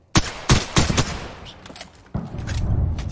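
Video game gunfire in a shootout: a quick burst of several loud, sharp shots, then a pause and another blast with a rumbling tail.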